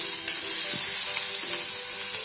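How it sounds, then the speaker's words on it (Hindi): Green chili and ginger-garlic paste fry on a slow flame in a pan, giving a steady close sizzle with light stirring. "अच्छे से हमें इसको बिल्कुल स्लो फ्लेम पे ही भूनना है, ताकि इसका कच्चापन जाए और ये जले नहीं"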